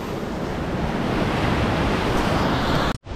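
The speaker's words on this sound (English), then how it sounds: "Look at the water rushing over that rock there. It's got its own waterfall." Water rushes over a rock in a small waterfall along an ATV trail in Nova Scotia, a loud, steady close-up roar with wind buffeting the microphone, cutting out abruptly near the end.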